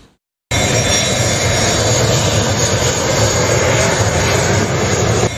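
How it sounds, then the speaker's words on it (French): Fighter jet of the armed forces of the Democratic Republic of Congo flying over North Kivu near Goma, a loud, steady roar that bursts in after a brief silence and holds without a break. "l'avion de chasse des forces armées de la République démocratique du Congo a repris ses vols d'attaque et de ratissage"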